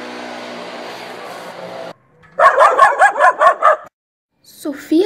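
A dog barks in a quick series of about six sharp, close barks after a sustained tone cuts off, then a short burst of yips or growling follows after a brief silence.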